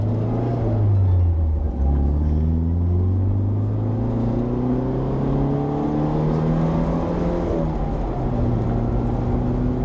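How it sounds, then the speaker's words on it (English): A loud Alfa Romeo Duetto Spider vintage sports car engine drones continuously, its pitch rising and falling as it revs through gears. "Hear the engine in this car."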